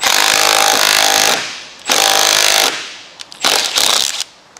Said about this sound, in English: So I'm gonna get my Benford 6100 nutsert installer here. Just put that nutsert in the hole and I'll tighten the bolt up in it.